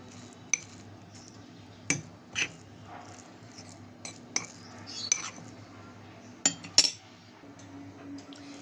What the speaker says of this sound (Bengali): মাঝে মধ্যে একটা চামচ দিয়ে এভাবে একটু উল্টিয়ে দেবেন